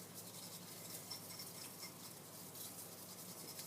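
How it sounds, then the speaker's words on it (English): Matcha powder and a little water worked into a paste with a bamboo-style whisk in a tea bowl, giving a faint, steady back-and-forth scraping and swishing with no talk. "I'm making a paste right now using the whisk as well as the bowl"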